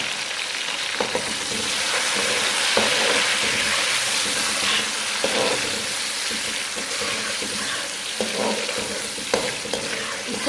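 Tomatoes and green chili frying in a pan make a steady, close sizzle, broken by repeated scrapes and knocks of a spoon stirring.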